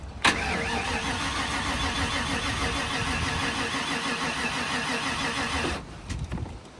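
A car engine cranks steadily with a rhythmic churning for several seconds without starting, apparently getting no fuel, then cuts off abruptly, leaving brief faint rattles.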